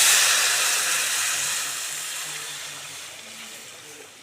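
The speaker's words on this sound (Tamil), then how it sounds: "ரசத்தை ஊற்றிடலாம்." A loud sizzling hiss bursts up as rasam is poured into a hot oil tempering with asafoetida, then slowly fades over a few seconds.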